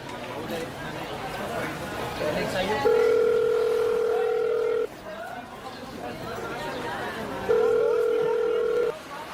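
Telephone ringback tone on a call, two long steady electronic rings a few seconds apart, heard under people talking and background chatter.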